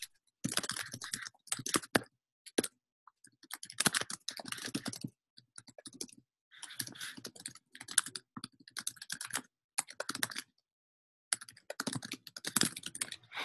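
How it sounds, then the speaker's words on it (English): Someone types on a computer keyboard during an online meeting, with close, quick clicking key presses in bursts separated by short pauses. "Everyone should be able to see I'm typing in the chat right now."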